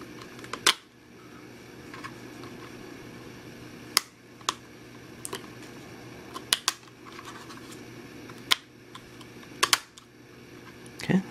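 Sharp plastic clicks and taps from a RAM module being seated into the memory slot of an older notebook computer, several isolated snaps spread across the span over a faint steady hum, close and fairly quiet.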